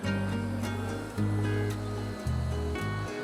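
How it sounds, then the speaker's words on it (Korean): River water flows past a remote riverside campsite in the mountains, a steady, full rushing sound that fills the whole clip with no voices. "밤새도록 저런 물소리가 나는데 싫지는 않고 좋았습니다."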